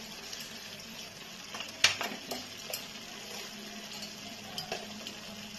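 Chicken masala spices fry in a pan for a chicken and potato curry, a soft, steady sizzle broken by a few clinks and scrapes of stirring, with no talk.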